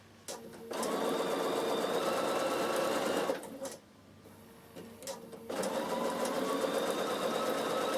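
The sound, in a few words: Bernina sewing machine stitching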